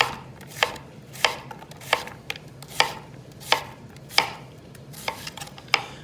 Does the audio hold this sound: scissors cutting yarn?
no